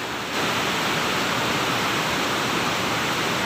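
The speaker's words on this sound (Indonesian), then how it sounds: "Kita nikmati pemandangan keindahan air terjun." A waterfall at the end of the Citi'is river roars in a dense, unbroken rush of falling water. It sounds loud and close, with no other sounds.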